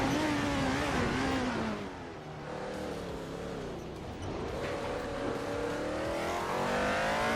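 Race car engines in a racing video game, a Penske PC3 among them, roar loudly and continuously, the pitch dipping then climbing again as the cars rev and accelerate, with no voices.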